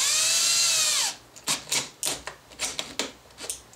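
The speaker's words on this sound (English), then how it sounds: "drill a pilot hole." A power drill whines at high speed for about a second, then stops, followed by a series of short clicks and taps.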